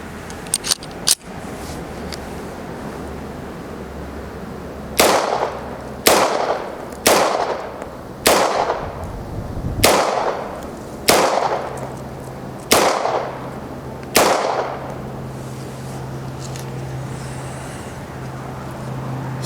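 A Bersa BP9CC 9mm single-stack pistol fires eight sharp shots at about 5 yards, evenly paced roughly a second apart after a couple of faint clicks, loud and alone outdoors.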